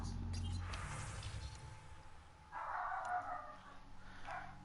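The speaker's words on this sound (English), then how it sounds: "Somebody's barking at the damn door." A dog barks at a house door, a couple of muffled, somewhat distant bursts of barking over a low background.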